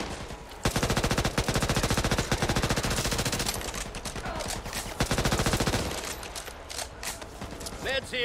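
Rapid submachine gun bursts from the video game Back 4 Blood rattle out in quick, steady strings, loud and close, with brief pauses between volleys and faint game sounds and voices underneath.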